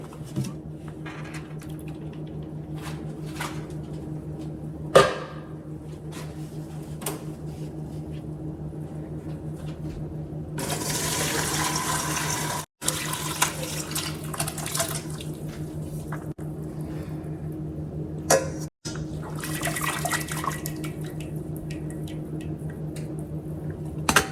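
Boiled broccoli cooking water being drained from a pot, a soft rushing pour and splashing in a kitchen, with a louder burst of flowing water midway and occasional clinks and handling noises.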